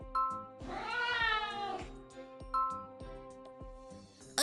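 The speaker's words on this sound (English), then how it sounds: "It's the cat from before!" A cat lets out a drawn-out, wavering meow, then a second shorter call, close and clear over a soft repeating musical backing with a faint jingle at the end.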